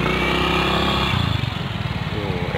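A motorcycle engine idles and revs at close range, a steady low rumble that shifts into a choppier, pulsing note partway through, heard alone on a rough trail.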